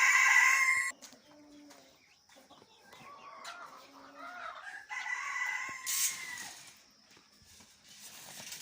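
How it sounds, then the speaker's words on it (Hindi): Hens cluck and a rooster crows at a poultry farm where laying hens are kept, with a loud crow at the start followed by scattered squawks and clucking from several birds at varying distances. "ये जी जो हमारी मुर्गियाँ एग दे रही हैं जी"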